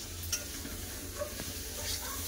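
Cubed potatoes fry with cumin, chili and turmeric powder in a pan, giving a continuous close sizzle with the scrape of stirring and a few light clinks of a utensil against the pan.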